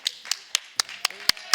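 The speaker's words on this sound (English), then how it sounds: "Give him a big applause" Several sharp hand claps in a quick, even rhythm, seven or so distinct smacks close by, not a full crowd.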